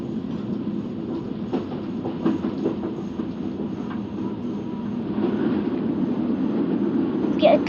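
A London Underground Northern Line train in the OpenBVE train simulator gives a steady low rumble with light clicking of the wheels on rail joints, growing slightly louder toward the end.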